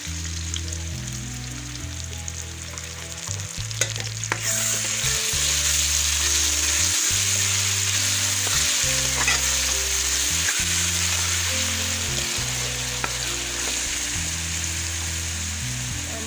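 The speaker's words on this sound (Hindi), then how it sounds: "अब इसमें शामिल कर दूँ लहसुन अदरक का पेस्ट," Garlic ginger paste fries with golden onions in a pan, the sizzle swelling louder and more hissing after it goes in, with steady stirring scrapes throughout, close and without talking, over faint background music.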